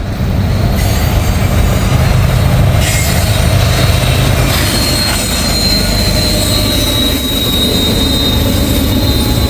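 A freight train with double DPU locomotives passes close by, a loud continuous rumble of wheels and engines with metallic squealing, steady throughout.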